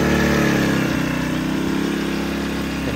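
A Sportsman GEN1000i inverter generator runs steadily at close range on economy throttle near 2,000 RPM, a loud, even engine drone with a fast regular pulse and no talk.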